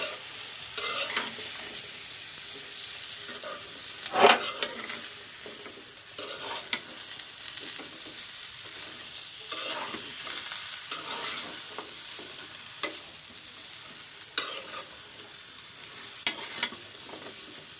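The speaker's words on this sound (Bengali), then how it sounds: "আমি ভালো করে একটু নাড়াচাড়া করে দিচ্ছি।" Broad beans, new potatoes and tomatoes sizzle in a frying pan while a spatula stirs them, giving scraping clicks and knocks at an irregular pace over steady close frying hiss.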